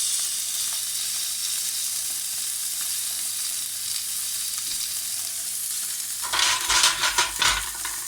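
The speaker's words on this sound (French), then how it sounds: "mettre mon poisson à cuire. Alors on commence toujours du côté qu'on va présenter le poisson." A salmon fillet sizzles as it fries skin-side first in a pan for salmon with sorrel sauce, a steady frying hiss that swells into louder crackling and spitting bursts near the end, with no voices.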